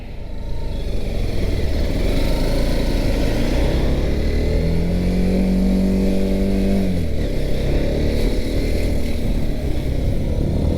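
A TVS Apache RTX 300 adventure motorcycle pulls away on the road, its steady engine drone joined by a rising tone as it accelerates. Close, constant and loud, with no voices.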